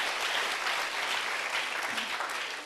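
Applause from a church congregation fills the space, a thick, continuous patter of many hands that stays strong and fades only slightly at the close.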